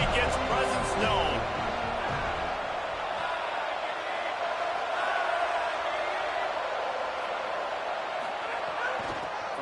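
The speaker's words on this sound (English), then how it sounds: "This crowd ready to make its presence known." Large football stadium crowd at an FSU vs Florida rivalry game, a steady roaring wash of many voices filling the space with a dense, constant din throughout, with a few louder bursts near the start.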